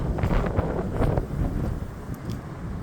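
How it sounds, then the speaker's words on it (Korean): Strong gusting wind on a commute outdoors, buffeting the microphone with heavy low rumbles and uneven blasts that rise and fall across the whole stretch, loud and close with no voices. "바람 장난 아닙니다"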